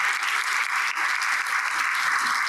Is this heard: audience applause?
yes